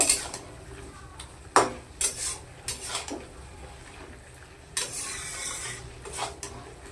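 Bottle gourd leaf stems with chopped coriander are stirred in a pan, with a spoon clinking and scraping against the metal in scattered, irregular knocks and short scrapes, close and moderately loud.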